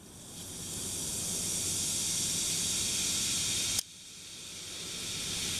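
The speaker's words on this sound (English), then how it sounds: "So you can see they fizz up really nice" Homemade autumn bath bombs fizzing in water, a loud close steady hiss that swells, cuts off sharply for a moment, then builds again.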